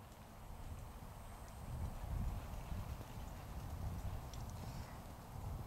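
Ridden horse circling in an arena, hooves clip-clopping in a steady rhythmic gait, soft and moderately near over a low background rumble, with no speech.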